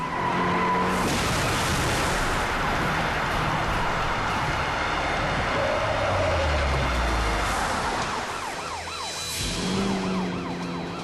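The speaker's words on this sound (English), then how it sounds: "The delinquent barrels through a red light and slams into a truck." Tires screech in a long car skid amid traffic noise, with wailing sirens rising and falling; a heavy low thud lands partway through as the car slams into a truck.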